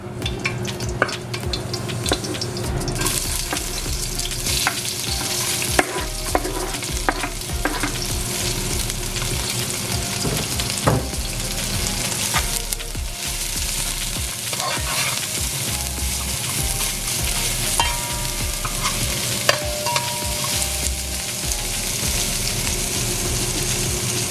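Garlic, pepper and onions frying in hot oil for geera pork belly, a steady loud sizzle with crackles and occasional stirring scrapes throughout.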